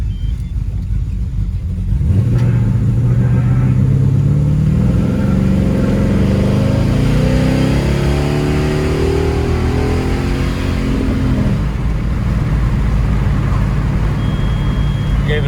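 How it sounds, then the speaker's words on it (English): A hard-running, barely running engine under a tough tuning job, cranking into life and then revving under throttle with rising and falling whine over a low rumble, close and loud before settling back down. "I'm going to give the throttle a try here"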